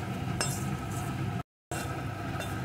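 Spice masala dry-fries in a pan for a vegetarian elephant-foot yam curry, a steady close sizzling hiss broken by a few sharp clinks of a spoon against the pan.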